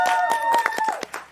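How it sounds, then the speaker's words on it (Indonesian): A few people clap in a studio at the start of a MasterChef Indonesia talk show, with quick, irregular hand claps over a light musical tone. "Tepuk tangan dulu dong"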